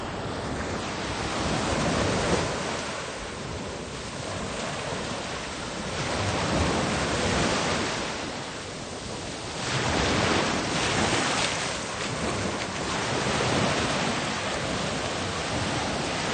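Indian Ocean surf rolling onto an Australian beach, a steady broadband wash of waves swelling and easing in long surges, with wind noise over the microphone and no voices.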